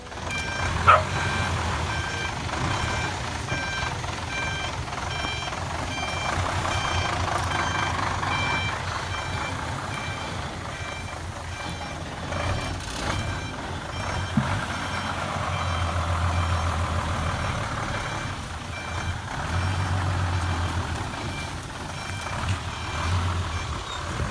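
A truck backs up with regularly repeating reversing beeps over a low engine rumble, while a dog barks and yips intermittently nearby.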